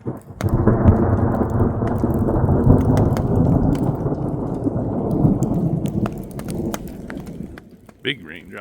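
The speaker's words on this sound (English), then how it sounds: "Getting some raindrops." Thunderstorm over a high wilderness meadow camp, with a loud rolling rumble of thunder and steady rain lasting most of the stretch, fading near the end as a brief voice cuts in.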